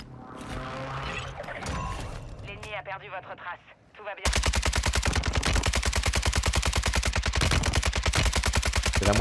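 Rapid automatic gunfire in a battle royale shooter with a closing gas zone, starting after a few seconds of muffled game noise and distant shots, then a loud, steady, dense burst that keeps going without pause.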